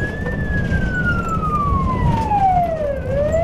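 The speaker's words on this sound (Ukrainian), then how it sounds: "В обох машинах вімкнені спецсигнали." Ambulance and police patrol car sirens wail together while both vehicles head out on a call in Khmelnytskyi, a loud continuous tone sweeping slowly downward over steady traffic rumble, with no talking.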